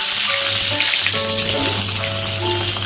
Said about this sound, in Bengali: তেল গরম হয়ে গেছে, দিয়ে দেব শুকনো লঙ্কা, কালো জিরে, 5 ফোড়ন, দেব কাঁচা লঙ্কা।